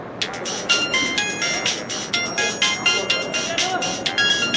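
A mobile phone ringtone plays a rapid repeating electronic melody in regular bursts, clear and fairly loud, with a voice speaking over it.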